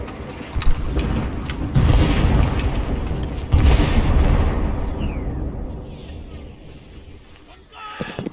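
A hand grenade detonates in Arma 3, a deep booming blast layered with loud, dense gunfire and battle noise, a voice talking over it.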